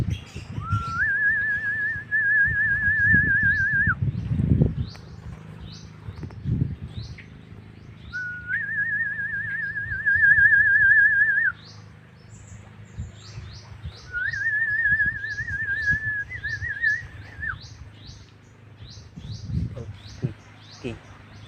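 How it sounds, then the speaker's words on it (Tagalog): Several birds call at once: a long whistled trill repeats three times amid rapid high chirps, over low rumbling handling noise. "Dami ng tunog ng mga iba't ibang ibon"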